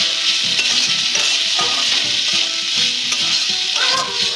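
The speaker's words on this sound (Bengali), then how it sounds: "আলুটা হালকা হালকা ভাজা হলে আমরা তার মধ্যে দিয়ে দেবো আদা" Potatoes with grated ginger fry in a pan for street-style ghugni, a loud steady sizzle close up with soft scraping stirs of a spatula throughout.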